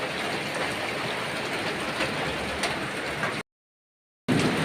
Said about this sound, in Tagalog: ang lakas ng ulan, oh